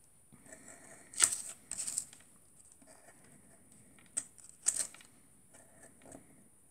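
A scalpel cuts a paper Halloween pumpkin card, giving a few short, soft scratching strokes in two brief clusters, close and quiet, with near silence between them.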